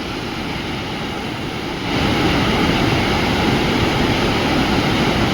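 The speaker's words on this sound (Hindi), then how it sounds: "इन पर्वत श्रृंखलाओं से निकलता हुआ झरना।" A mountain waterfall roars beneath an old swaying bridge, a loud, steady broadband rush that swells louder partway through and continues without a break.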